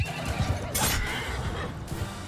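Horse neighing in Mount and Blade Bannerlord during a battle, one loud shrill whinny in the middle over a busy low rumble of combat, with a shorter cry near the end.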